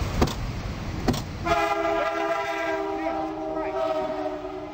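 A passing train sounds its horn in a loud, sustained, steady blast that sets in after a couple of sharp thumps and holds close and prominent to the end, over a low rumble.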